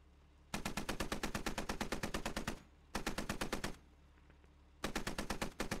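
Burning vehicle cooking off in the Squad video game, its ammunition popping in fast rapid bursts of sharp cracks, three loud close volleys separated by short pauses.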